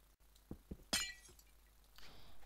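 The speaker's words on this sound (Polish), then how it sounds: "Wow, rozbite szkiełko." Glass breaking in the video game Minecraft: a couple of low thuds, then a sharp bright shatter, followed by a fainter crackle of glass.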